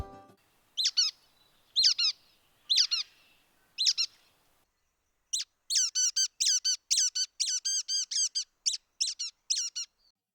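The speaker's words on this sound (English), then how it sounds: "Their squeaking, rubber duck-like call is quite unique." A brown creeper gives a series of squeaky, rubber duck-like calls, first a few spaced single notes, then a quicker run of repeated squeaks, clear against quiet surroundings.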